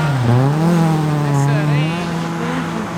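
A drift car idles on a wet track after spinning out, its engine revving with a loud, close, wavering tone that rises and falls. Tyre noise sounds faintly underneath.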